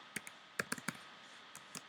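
A computer keyboard being typed on, with a handful of faint, light key clicks in short irregular bursts and quiet pauses between them.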